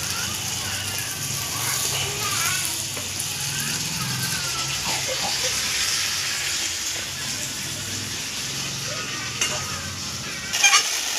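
Ridge gourd pieces added to a hot pan and stirred, producing a continuous close sizzle with scraping and clattering of the spoon, a voice talking over it and a sharper knock near the end.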